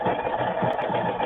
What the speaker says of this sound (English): Now this is a zigzag stitch